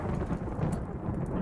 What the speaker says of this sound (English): Ooh, flash storm.